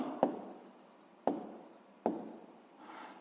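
Numbers written by hand in a sixth-grade maths exercise: three crisp pen taps, each followed by a short scratchy stroke, close and quiet, with a faint rub at the end.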